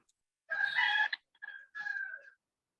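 A rooster crows in a broken, ragged call: one long harsh burst followed by two shorter strained phrases, fairly close and clear with no other sound around it.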